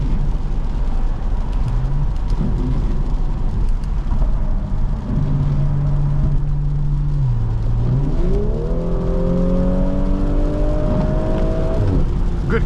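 A 2021 Audi S5 3.0T Cabriolet on the road drops a gear on kick-down and its engine climbs steadily in pitch, a rising droning rev heard from inside the cabin over steady road noise.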